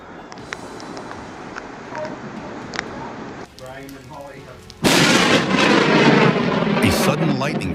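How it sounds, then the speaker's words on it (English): Thunder roars loudly right after a lightning flash during a storm, a sudden close, booming crack that bursts in after a stretch of rain and a brief voice, then rolls on heavily to the end. "A sudden lightning flash illuminated the sky right behind a couple as thunder roared loudly"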